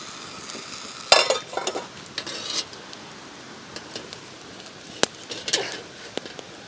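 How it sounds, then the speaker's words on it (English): Beans cook in olive oil in a skillet, a quiet crackling sizzle broken by scattered sharp clicks and scraping knocks of a utensil against the pan. "we're gonna throw our beans in there and cook them in the skillet here"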